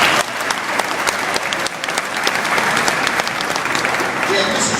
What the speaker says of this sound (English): So let's give the Scots a little round of applause.